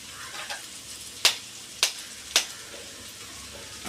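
Eggs added to a hot frying pan while making fish podimas give a quiet, steady sizzle, punctuated by three sharp, crackling spatters evenly spaced, close to the pan.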